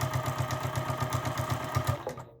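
A sewing machine stitches the binding along a quilt corner with a quick, even, motor-driven pulse that stops abruptly after about two seconds. It is close and there is no talking.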